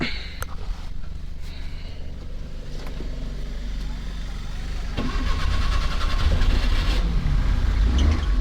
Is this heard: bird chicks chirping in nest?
no